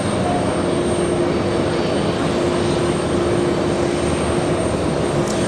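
Jet airliner engines at JFK International Airport, a steady loud broadband roar that holds unchanged throughout, heard alone from a spotting position with no voices.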